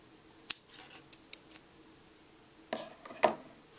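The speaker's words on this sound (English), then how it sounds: "Now we're going to fasten off, so cut your yarn." Scissors snip through crochet yarn while fastening off a baby ballet bootie, a few quiet, sharp clicks and snips scattered across the moment, with a louder cut near the end and no talk.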